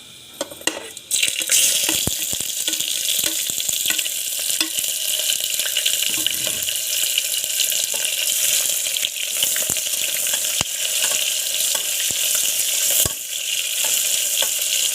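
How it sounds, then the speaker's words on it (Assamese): Finely chopped onions fry in a pan with cinnamon, giving a loud, steady close sizzle broken by sharp clicks of stirring, with no talking. "পিঁয়াজটো আমি পূৰা ৰঙাকৈ ভাজি ল'ম।"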